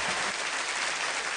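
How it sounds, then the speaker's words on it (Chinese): A studio audience at an errenzhuan folk performance competition claps steadily, a dense and even burst of applause with no voices heard. "来，让我们用掌声把前三组选手也请回到这个舞台上来"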